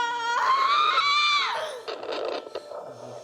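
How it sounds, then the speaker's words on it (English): A woman in labour, delivering without pain relief, lets out a long, loud, strained scream that rises and holds before breaking off, followed by ragged gasping breaths and smaller whimpers. "it just felt natural that I had to scream to get it out"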